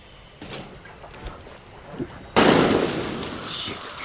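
Gunshots in the video game Far Cry 6: a few faint pops early on, then a louder burst of gunfire with a sustained noisy wash. Some quiet speech mixes in.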